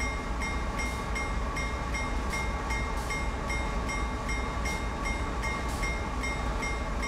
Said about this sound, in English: You can tell how slow the train is going because there's barely any change in the Doppler effect.